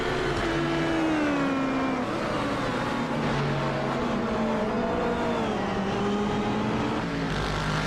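Multiple GT3 race cars, including McLarens and Corvettes, run at Brands Hatch in a sim racing game, their engines a steady layered whine that rises and falls through gear changes, loud and continuous with no talk.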